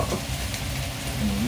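Meat sizzles steadily on a hot plate at a family New Year's Eve home grill, a close continuous frying hiss with faint clatter.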